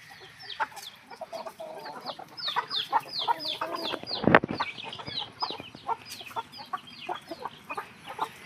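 Asil breeder chickens and roosters on a farm cluck in a busy, overlapping chorus of short calls, with one louder burst midway and steady background clucking throughout.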